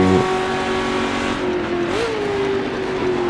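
A 1966 sportscar from a Daytona 24 Hours racing game held at full throttle, a loud steady engine drone with a brief pitch rise near the end, continuous with no speech.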